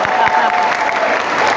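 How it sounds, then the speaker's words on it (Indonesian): Applause for a speaker at a school religious gathering for Isra Mi'raj in Ungaran: dense crowd clapping, steady and loud, with faint voices mixed in. "Tepuk tangan buat Mas Haza."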